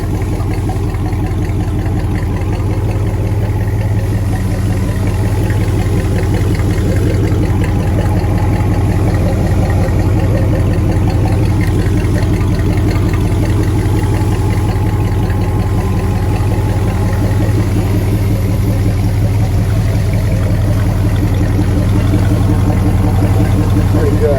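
A Chrysler Marine 318 V8 boat engine, freshwater cooled and fed by a garden hose, idling steadily with a deep low rumble, constant and close throughout, with faint background voices now and then.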